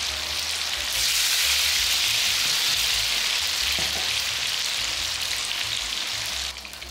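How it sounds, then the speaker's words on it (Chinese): Battered tofu deep-fries in hot oil over high heat, giving a loud, dense, continuous hiss and crackle that swells as the pieces go in and holds steady, with no talking. "然后豆腐就可以直接进来炸了。"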